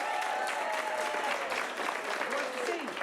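Crowd at an improv comedy shootout in Portland clapping and cheering for a director, dense sustained applause throughout with some whoops and a voice faintly underneath.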